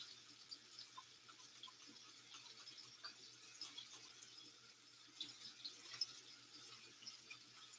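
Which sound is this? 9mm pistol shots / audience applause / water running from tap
water running from tap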